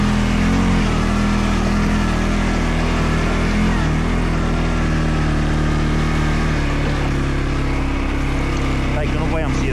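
A scooter motor revs hard and steadily while its wheel slips and loses grip, a loud, continuous engine drone that holds for about ten seconds.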